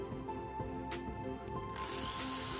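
A 200-watt electric drill runs freely with no load, giving a steady, continuous motor whine at moderate level throughout, with a brighter hiss rising toward the end.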